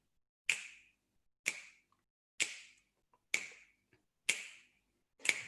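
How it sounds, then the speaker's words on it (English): Six crisp finger snaps land at an even, unhurried beat, each sharp and close with a quick decay, keeping time to a song in otherwise near-silent surroundings. "You can snap your fingers."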